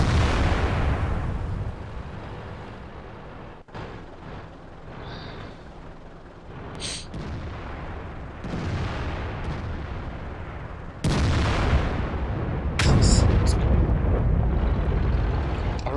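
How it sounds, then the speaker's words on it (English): In a World of Tanks battle, an FV215B tank fires high-explosive shells at a heavily armoured E100. Several sharp, booming cannon blasts arrive at irregular intervals, each with a brief rumbling tail over quiet ambient noise. "that FV215B is firing high explosive at heavily armoured targets like the E100"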